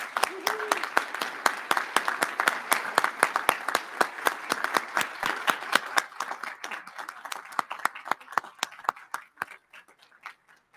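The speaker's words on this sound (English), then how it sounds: "Please join me in a round of applause for the Sisters of St." Applause from the audience at a university presidential inauguration, honoring the Sisters of St. Francis of Assisi: a crisp, rhythmic patter of individual claps near the listener, a voice briefly audible at the start, tapering off toward the end.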